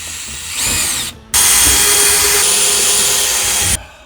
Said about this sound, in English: We're just gonna screw into from the front